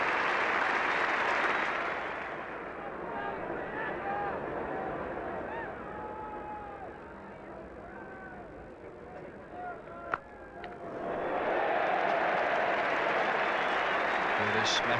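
A cricket crowd at Edgbaston during an England v Australia Test applauds David Gower's century. Loud, dense clapping opens the scene, thins beneath a commentator's voice, then swells back to full volume near the end.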